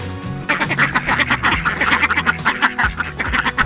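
A flock of ducks, including Welsh Harlequins, quacks in a rapid, overlapping chorus of loud, close calls that carries on throughout.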